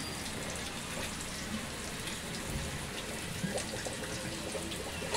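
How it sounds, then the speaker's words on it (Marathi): Hot water is drained off boiled eggs, a continuous faint splashing trickle with no talking throughout. "ह्याचं पाणी काढून घेऊया"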